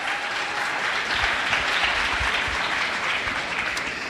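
Sustained audience applause at a public event for the Vice President of the United States, a dense, even roar of many hands clapping throughout.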